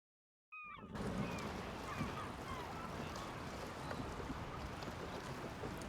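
A boat moving across water in the Game of Thrones Telltale video game, a steady broad wash of water and hull noise starting abruptly after a brief bird call and continuing evenly throughout.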